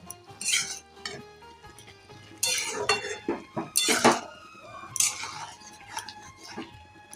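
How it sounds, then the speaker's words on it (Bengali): A metal spoon scrapes and clinks against a pan as spinach is stirred, giving loud irregular bursts of scraping and knocks over a quiet background, with no talking. "এবার আমি এটাকে আবার ভালোভাবে একটু মিশিয়ে নেব"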